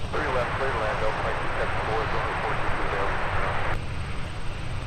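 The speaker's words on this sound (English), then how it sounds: "who can forget the unmistakable roar of the GE90s?" Steady, loud broadband roar of GE90 jet engines on an airliner at MSP airport, continuous for the whole stretch with radio talk running over it.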